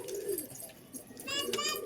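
A white female Matadz pigeon cooing up close, two soft low coo phrases with a brief high chirp between them, over a faint voice in the background.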